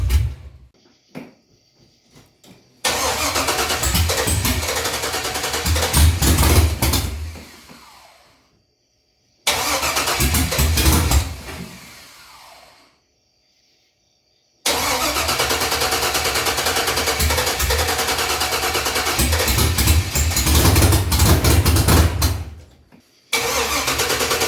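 LS-swapped square body truck engine with a Holley system cranking and catching several times, loud and close, running briefly in bursts and then cutting out between attempts.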